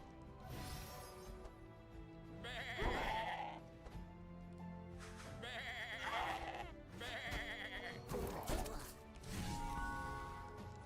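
Repeated cartoonish sheep bleats in the video game Across the Obelisk, several bursts spaced a few seconds apart over layered game music and effects.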